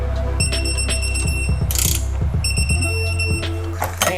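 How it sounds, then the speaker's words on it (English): A torque wrench tightens roll cage bolts on a Miata with rapid, close ratcheting clicks in quick bursts, with bright metallic ticking over a steady mechanical hum. "I'm going to tighten these down to 33 foot-pounds"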